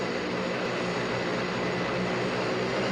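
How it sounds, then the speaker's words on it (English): Dense, continuous roar of a Boeing 757 stalling in a flight simulator game, a steady rumbling wash of engine and wind noise at even loudness, with no speech. "Now the Boeing 757 is stalling."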